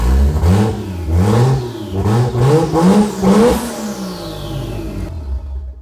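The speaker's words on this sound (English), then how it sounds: "you can definitely like really hear the turbos with no muffler" A loud, close Nissan 240SX turbo engine with no muffler revs hard several times in rising and falling surges, turbo whine audible, then abruptly cuts off.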